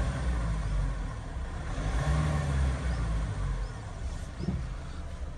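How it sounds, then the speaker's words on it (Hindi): A Mahindra Thar's engine idles steadily with a low, even rumble, heard from close by with the air conditioning switched off and no talking. "आवाज सुनो गाड़ी की।"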